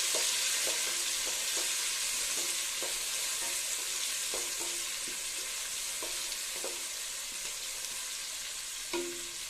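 Onion pieces and green chillies fry in a pan, giving off a loud, continuous hiss and crackle, with soft scraping knocks as a spoon stirs them through the oil.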